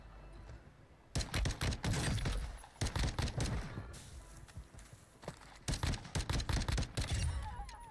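Pistol shots in a first-person video game, several clustered volleys of sharp cracks fired in quick bursts with pauses between, fairly loud against quiet game ambience.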